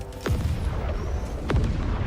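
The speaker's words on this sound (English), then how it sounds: "Eliminated by explosion!" Two heavy booming explosions in a video game battle against bugs and robots, one near the start and another about a second later, each with a deep rumbling tail over steady background noise.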